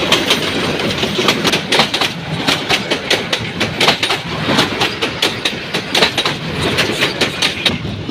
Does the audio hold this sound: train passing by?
yes